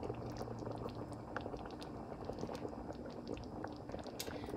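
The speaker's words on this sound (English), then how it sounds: "I'm gonna go ahead and stir that up." A pot of spaghetti sauce made from Dollar Tree ingredients with added garlic bubbles softly on the stove, a faint continuous simmer with scattered small pops, no voices.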